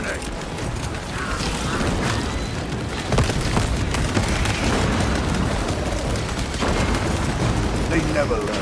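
A frag grenade blast amid dense, loud, continuous battle noise in Warhammer 40,000: Space Marine II, with heavy booms and gunfire-like crackle layered throughout and voices mixed into the chaos.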